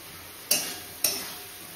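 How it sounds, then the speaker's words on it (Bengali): Spice paste fries in a pan and is stirred, with a steady faint sizzle and two sharp scraping strokes of the spoon against the pan about half a second apart. "আর এই যে দেখো মশলাটা কষছে এখানে"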